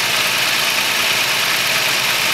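Older OBD 1 car engine idling while misfiring on one cylinder, producing a loud, steady, close rumble with an even texture throughout and no voices.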